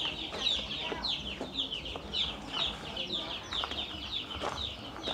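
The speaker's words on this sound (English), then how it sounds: "This is the problem when you have chickens." Chickens in a neighbor's yard cluck repeatedly in short, scattered bursts from several birds at close range, with faint voices in the background.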